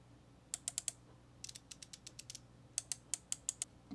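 A Klein ratcheting screwdriver bit holder clicks through its ratchet in quick bursts of sharp, close ticks, several rapid clicks per group separated by short pauses, with nothing else audible.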